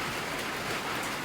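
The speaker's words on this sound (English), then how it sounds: "it started raining, baby. Yeah. It is pouring outside." Heavy rain pours down outdoors, a dense steady hiss of drops with no break, fairly quiet and even across the whole stretch, with no talk over it.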